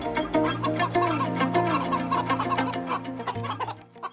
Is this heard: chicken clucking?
yes